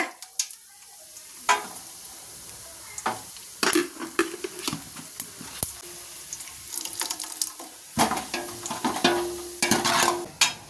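Vadavam frying in oil for a fish curry, a crackling sizzle close by with sharp clatters and scraping of a ladle against the pan, loudness rising and falling in bursts.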